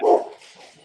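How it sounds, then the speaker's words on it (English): A dog barks once, close and loud, its bark trailing off into a softer whine. "Sorry about the barking there."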